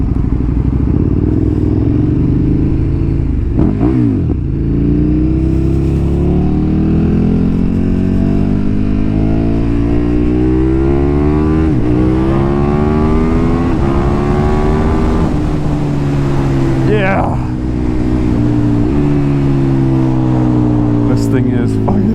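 A KTM 1290 Super Duke R motorcycle pulls hard in first gear, its engine note climbing steadily in pitch through long rising sweeps, loud and close throughout, with brief dips where the throttle eases before revving up again.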